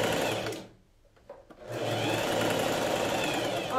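A sewing machine runs steadily while stitching a brown tweed blazer-style coat, with a short pause in the middle before the motor picks up again, close and continuous.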